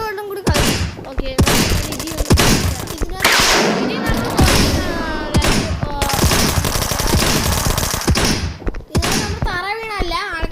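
Rapid gunfire bursts ring out in the video game Dude Theft Wars, loud and dense throughout, mixed with thuds and other game sounds, and a person speaks over parts of it.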